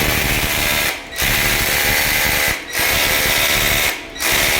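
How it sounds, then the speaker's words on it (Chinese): Power drill boring screw holes in the side of an electric clothes-drying rack's motor mount, three sustained whining runs broken by brief pauses. "所以我们现在是把它钻孔"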